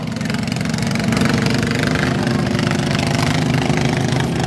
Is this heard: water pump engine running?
yes